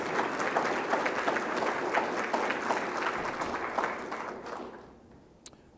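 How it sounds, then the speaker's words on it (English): Hearty audience applause at an opening plenary session of a research meeting, dense and sustained for several seconds before fading out, with a lone clap near the end. "Please give yourself a hearty round of applause."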